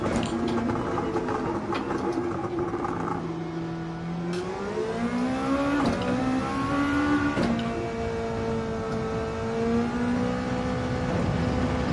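A Honda NSX racing car in a video game revs continuously, its engine pitch rising and falling through gear changes, alongside the whir of other cars, with no talking.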